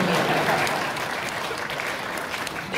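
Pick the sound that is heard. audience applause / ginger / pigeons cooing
audience applause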